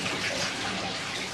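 Water gushes steadily into a large wax-pressing cauldron as it is refilled, a full, close rushing pour with no voices.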